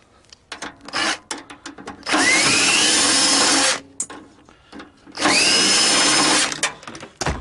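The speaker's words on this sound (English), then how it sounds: "Get the drill." A power drill backs screws out of a salvaged microwave. Two loud runs of about a second and a half each rise in pitch as the motor spins up, with scraping and clattering handling noises before and between them.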